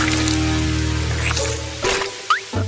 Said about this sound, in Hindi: ओह, ऐसा लगता है कि बारिश शुरू हो रही है।